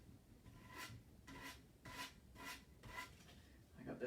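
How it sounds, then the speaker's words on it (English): Rhythmic sanding strokes on a decoupage serving tray, about seven even back-and-forth rasps at a steady pace, fairly faint and close, with no talking. "all I'm doing is sanding away from my middle"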